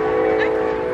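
A train horn blows near a swap meet, a steady loud multi-tone blast held for the whole second, with crowd and background noise underneath.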